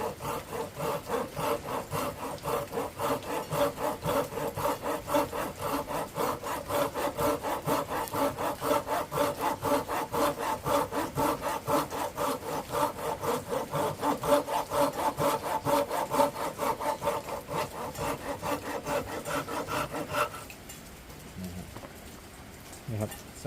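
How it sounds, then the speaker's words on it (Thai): A folding Japanese handsaw rasps through wood in slow, steady back-and-forth strokes for about twenty seconds, close and even, then stops, leaving quieter handling sounds. "อันนี้จะเป็นการเลื่อยแบบช้าๆนะครับค่อยเลื่อย"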